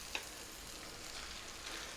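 Sticky rice frying in a hot pan while being stirred, a steady close sizzle with a brief scrape near the start and soft stirring texture throughout.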